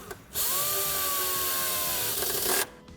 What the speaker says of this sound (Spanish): con la ayuda del tornillo autorroscante colocaremos las masas directamente a carrocería